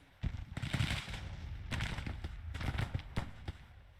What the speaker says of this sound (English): these guys are taking flanking fire